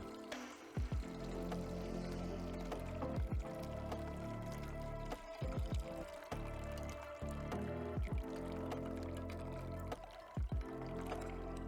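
Infused liquid pours slowly through a strainer in a chef's demonstration at a farmers market, a steady trickle and splash broken by repeated soft drips and squelches. It sounds close and quiet, with no talking.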